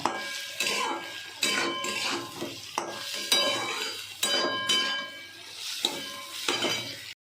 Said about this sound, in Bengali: এবার ভালো করে মিশিয়ে ভেজে নেবো